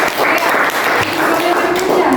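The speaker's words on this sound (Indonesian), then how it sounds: "sekali tepuk tangan dulu" A classroom of students breaks into applause together, a dense, close burst of clapping that fills the whole moment.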